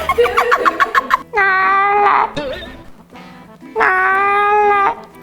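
Long, drawn-out wailing meows, loud and near, two sustained cries separated by a brief pause with a voice-like sound between them.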